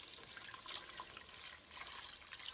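Water runs steadily into a cooking pot for Portuguese caldo verde, a continuous close splashing pour with onions already cooking, no talk over it.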